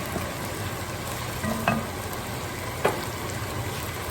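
Onions and garlic frying in a pan over medium-low heat, a steady soft sizzle with a couple of brief clinks of a utensil against the pan, close and fairly quiet.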